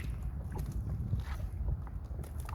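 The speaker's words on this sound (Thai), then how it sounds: "ฟังเสียงน้ำพี่น้อง ไหลพัดแกงหินครับ" An outdoor stream in cold season runs over rocks, heard as a continuous low rushing and churning roar close to the microphone, with some wind buffeting and no speech.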